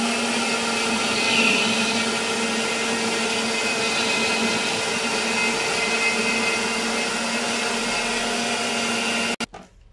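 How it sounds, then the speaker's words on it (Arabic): A blender grinds garlic mayonnaise as oil is poured in gradually, a loud, steady, close whirring roar that holds for about nine seconds before cutting off abruptly with a brief clatter. "درتو كيتطحن وبقيت كنضيف الزيت بالتدريج كما شفتوا"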